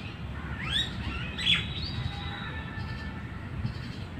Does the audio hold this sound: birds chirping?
yes